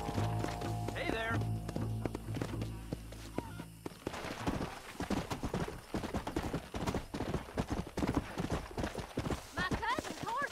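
Horse hooves clip-clopping in the video game Red Dead Redemption, a run of quick sharp hoofbeats with whinnies and game sounds, as voices talk over them.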